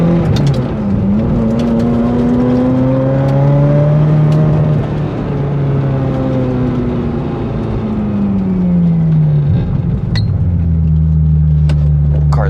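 A Ferrari 355 engine idles and gently revs after a coilover replacement, its steady low rumble rising and falling in pitch through several smooth throttle changes, loud and close with no talk.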